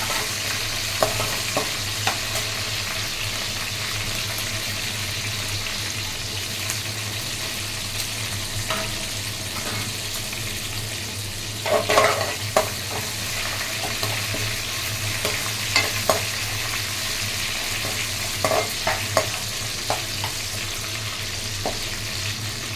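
Chana dal frying in hot oil with dried red chilies, green chilies and curry leaves, a steady soft sizzle with occasional stirring scrapes and clinks close by, no voices.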